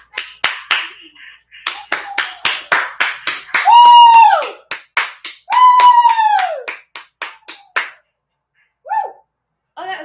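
A few people clap outdoors in a steady series of sharp, close claps, with long whistle-like tones sweeping through the middle.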